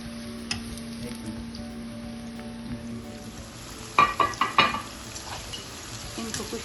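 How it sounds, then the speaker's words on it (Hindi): Vegetables sizzle at low volume in a heating pan. Partway through comes a quick series of four or five sharp clacks from a utensil against the pan, followed by more soft frying hiss. "जैसे ये थोड़ा सा गर्म होगा, मैं इसमें अपनी वेजिटेबल्स डालने लगी हूँ।"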